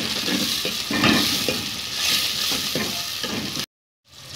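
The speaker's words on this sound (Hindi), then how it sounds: "अब इसमें टमाटर बारीक कटा हुआ ये शामिल करेंगे।" Chopped tomatoes and green chillies sizzle and spit in a hot pan while a spoon stirs and scrapes them in steady, repeated strokes, loud and close with no talking, before the sound cuts off abruptly near the end.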